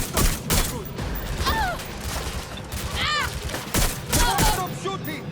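Gunfire in the video game Watch Dogs Legion crackles in quick irregular bursts of sharp shots with metallic clatter, punctuated by brief whistling tones under steady game noise.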